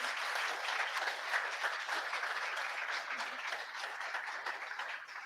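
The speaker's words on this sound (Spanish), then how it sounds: "un aplauso para saludarlos" A church congregation claps together to greet returning members, a steady, fairly soft applause that holds evenly for several seconds.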